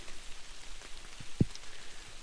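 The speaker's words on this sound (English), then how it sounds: "it's gotten so much rain on it and it's so wet that it's just soaking through" Rain falls steadily on a wet hiking trail in the Boundary Waters, a soft continuous patter with one sharp nearby drop or tap standing out, and no one speaking.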